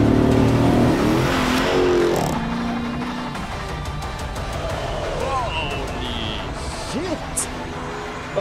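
A car's engine revs up loudly at the start, then the roar fades into the distance as it drives off, with people talking over the lower rumble and a brief whoosh later.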